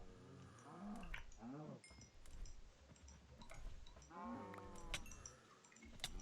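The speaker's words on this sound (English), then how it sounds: "That cow is aggressive." A cow in the Minecraft video game lets out a couple of drawn-out, wavering moos over a faint, busy game background, quiet throughout.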